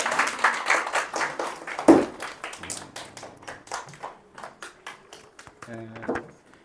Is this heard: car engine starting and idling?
no